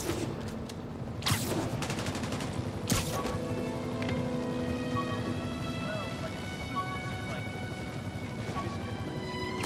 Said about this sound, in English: Snipers are firing on officers.